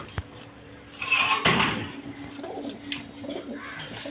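Indian Kaldom pigeons coo in a loft, a low burbling chorus under a brief sliding-door-like rattle and scattered clicks, several birds close by.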